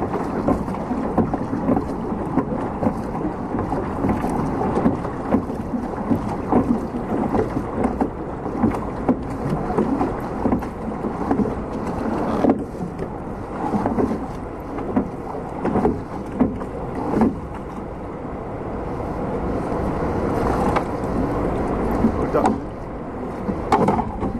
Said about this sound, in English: Oh, one-handed rowing as well to steer us in.